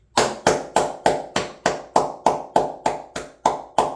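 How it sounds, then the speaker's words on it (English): Loud, evenly spaced claps ring out one after another in a steady rhythm, about three per second, close by with nothing else in the background. "one more round of applause"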